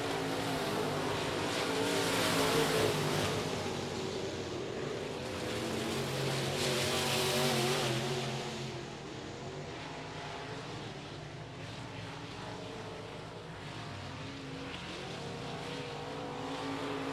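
IMCA modified race cars circle a dirt speedway during a championship-night heat race. Their engines roar loudly as the pack sweeps past, then settle into a steady, more distant drone.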